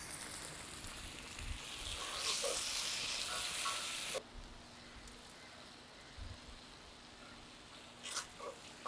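Chopped tomatoes frying with onions in a pan for Chettinad egg curry, a steady sizzle that is loud at first, then drops to a quieter frying hiss with a few soft stirring clatters.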